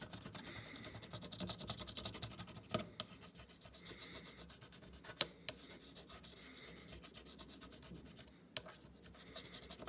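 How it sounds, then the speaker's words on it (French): Steady scraping and rubbing as debris is cleared out of a scribed line in a cellulose acetate sheet, a continuous close rasp with a few sharper ticks and brief pauses. "Je vais ensuite débourrer mon tracé pour retirer la matière qui s'est glissée dedans."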